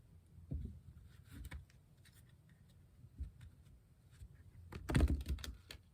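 Soft papery shuffling and clicking of tarot cards, quiet and close, with a louder cluster of rustles near the end; no speech.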